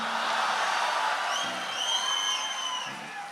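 Comedy poetry audience at a Hindi hasya kavi sammelan erupts in sustained cheering, whoops and shrieks, a dense crowd roar filling the whole stretch with a few louder yells rising above it.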